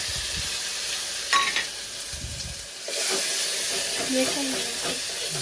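Tomatoes fry in a tempering of mustard seeds, cumin and asafoetida for dosa, a steady hiss and sizzle with stirring scrapes and a burst of louder crackle partway through, while voices murmur in the background.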